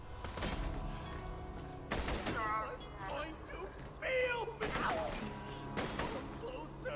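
Gunshots in a video game ring out as several loud, sharp bursts spaced a second or two apart, with chirpy game effects and voices between them.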